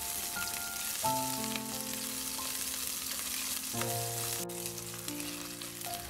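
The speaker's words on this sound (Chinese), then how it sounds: "接着再倒入葱姜蒜，用中小火慢慢的把葱姜蒜炒香" Chopped scallion, ginger and garlic fry in hot oil in a wok over medium-low heat after star anise, giving a steady, quiet sizzle throughout with faint tonal background music layered over it.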